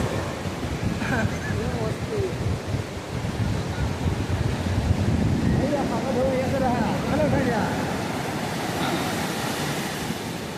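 Ocean surf rumbles steadily at the shore while wind buffets the microphone, and voices chatter faintly in the background.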